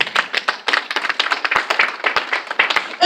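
Rhythmic clapping from a church congregation at a ministers and leadership conference in Italy, close and lively, with uneven bursts of hands beating in time for several seconds.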